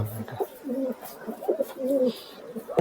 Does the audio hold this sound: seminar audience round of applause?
no